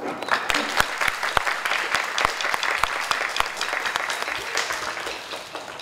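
An audience applauds students at an artists-in-residence school performance, steady dense clapping with sharp individual claps standing out, fairly close and loud, tapering slightly toward the end.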